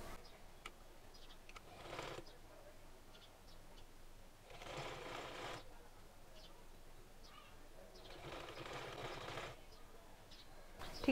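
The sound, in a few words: sewing machine stitching fabric for a neck design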